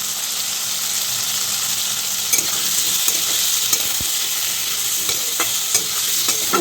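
Onions in a pan with salt and turmeric, for ghugni, fry with a loud, dense, continuous sizzle, plus occasional scraping taps from stirring and no talking.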